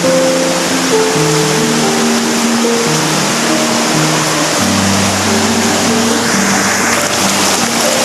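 A river stream in deep forest rushes steadily and loudly throughout, a dense continuous wash of water with faint tonal sounds running underneath.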